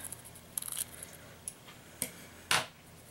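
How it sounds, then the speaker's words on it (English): Small scissors snipping a piece of snake skin, a few light clicks and short cuts close by, ending in one sharper, louder snip. "So I'm just going to snip part of that off."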